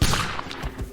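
A muzzle-loading gun loaded with powder and a patched bullet fires once, a single close, heavy boom that rolls on briefly before fading.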